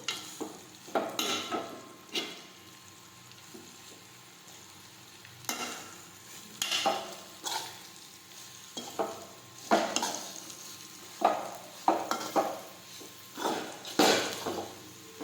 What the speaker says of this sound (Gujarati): હવે આપણે આ રીતે સાતળી લઈશું.